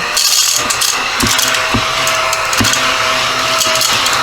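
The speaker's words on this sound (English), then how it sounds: "Now I am going to use my little vacuum to get up these little tiny pieces" A small handheld vacuum whirs steadily while sucking up tiny paper scraps from a craft project, broken by several sharp clicks and knocks, loud and close.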